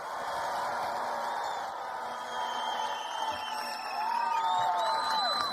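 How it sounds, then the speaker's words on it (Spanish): A large crowd at a public event with Colombian President Gustavo Petro roars in a steady wash of cheering, with whistles rising over it and a louder swell near the end. "Un fuerte aplauso para Gustavo Petro Urrego, presidente de Colombia"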